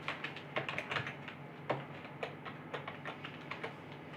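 Quick, light keystrokes of a password being typed on a computer keyboard, heard close and fairly quiet in an uneven run of taps with a slightly longer pause partway through.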